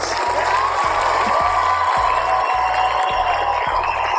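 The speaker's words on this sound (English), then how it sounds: "Bro, Alex, the crowd loves you." A studio audience applauds and cheers as a guest is welcomed onto a talk show, a steady wash of clapping with a rhythmic bass music loop underneath.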